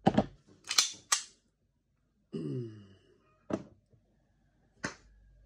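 A Tokyo Marui Hi-Capa airsoft pistol, a semi-custom build, fires about five sharp, snappy cracks at irregular intervals, with a brief metallic springy rattle between shots, close and alone.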